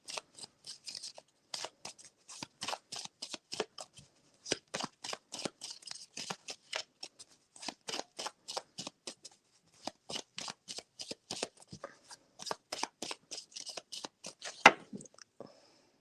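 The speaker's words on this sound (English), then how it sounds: "I want to shuffle these a little bit more because I haven't touched this deck in a minute." A deck of tarot cards being shuffled by hand, heard as a long series of quick, crisp riffling bursts in a steady rhythm with brief pauses between them, close and fairly quiet, with no talking.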